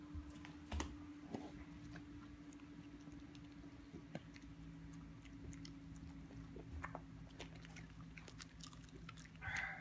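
A dog gnaws on a treat behind a chair, producing quiet, irregular crunching and clicking bites over a low steady room hum, with no one talking.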